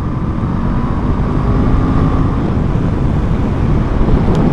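A 2023 Honda CL500 scrambler motorcycle climbing uphill gives a low, steady engine drone, heavily buffeted by loud wind rush across the microphone, with no talking.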